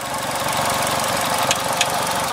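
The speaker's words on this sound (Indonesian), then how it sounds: "Di sini mesinnya udah di start up." A 2016 Suzuki Ertiga with a manual gearbox idles steadily after start-up, its engine close and even-toned, with a faint rhythmic knock and a couple of brief sharp clicks near the end.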